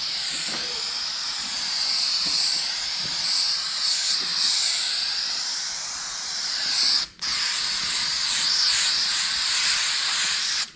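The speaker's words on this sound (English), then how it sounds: "We're going to spray both surfaces." Spray adhesive hissing from a can onto a Plymouth Fury interior panel, a loud, steady close spray running for many seconds with one brief break partway through.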